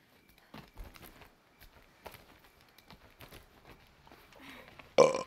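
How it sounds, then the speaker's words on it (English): A single short, loud burp right at the end, following several seconds of quiet, scattered soft knocks and shuffling while playing Horizon Zero Dawn. "And I burped."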